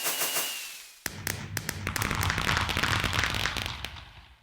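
Fireworks go off in Minecraft snapshot 12w50a: a whistling launch, then a rapid series of sharp crackling pops and bursts that tail off into fading sparkle.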